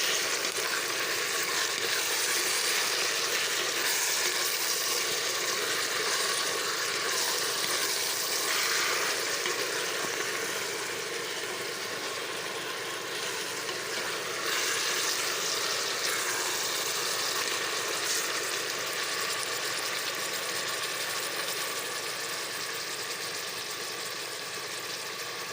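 Around 750 grams of chicken sizzles and fries in a pan, a continuous dense crackle that stays fairly loud and steady throughout, slightly easing later, with no speech.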